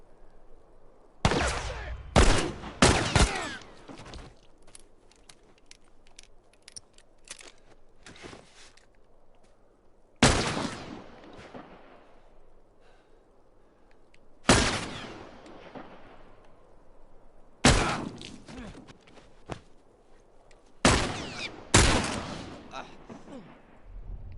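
Bursts of AK-variant rifle fire in The Last of Us Remastered, several loud short volleys spaced across the stretch with quieter ambient movement and footsteps between them, with a player voice present at moments.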